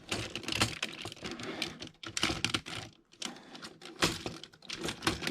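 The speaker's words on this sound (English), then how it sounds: "these will all line up and click together" Plastic toy Megazord parts snap and click together in quick, close bursts of sharp rattling clatter, with brief pauses between handling sounds.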